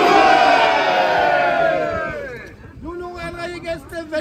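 A big outdoor crowd at the Kieler Umschlag 2023 closing rally on Alter Markt roars and cheers loudly, then fades after about two seconds, with a voice taking over.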